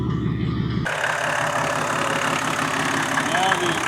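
A 1991 Mercedes-Benz 350 engine idling just after starting, a steady loud mechanical hum with a rhythmic low pulse, close by, and a voice briefly audible over it.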